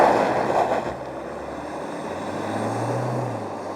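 A Toyota HiLux GR Sport launching from a standstill toward 100 km/h, its engine droning loud and close, rising in pitch as it accelerates.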